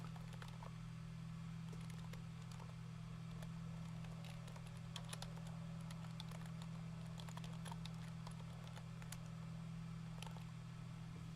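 Soft, rapid keystrokes on a computer keyboard tap away steadily and faintly for several seconds over a constant low electrical hum, with no talking.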